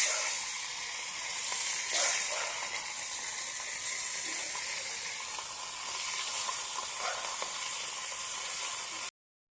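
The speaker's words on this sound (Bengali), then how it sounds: "আমি চাপলা মাছগুলোকে হলদি আর লবণ মাছগুলি ফ্রাই করে নেব" Chapila fish seasoned with turmeric and salt frying in hot oil, a steady close sizzle and hiss with faint crackles and occasional soft stirring or spatter bumps throughout, no voices.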